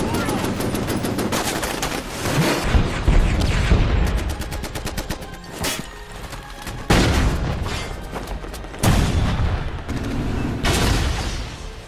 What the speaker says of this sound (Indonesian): Mereka hanya bisa menembakkan senjatanya secara membabi buta